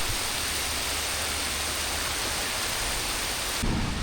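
Heavy rain and rolling thunder from a thunderstorm in rural Kampot, Cambodia, a dense continuous roar with deep low rumbles throughout, close and loud, no voices.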